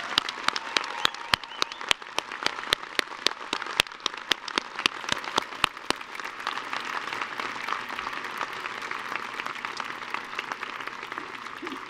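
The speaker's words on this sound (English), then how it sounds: "Let's give Al a big round of applause." A big round of applause fills a university winter commencement ceremony, dense steady clapping from a large crowd that holds for the full stretch, with sharp individual claps standing out early before settling into an even roar.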